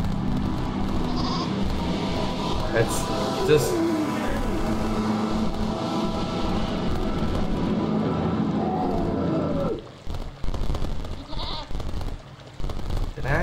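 Goat bleating in the video game Goat Simulator, with a short wavering bleat rising over continuous game background noise while a person speaks briefly near the end.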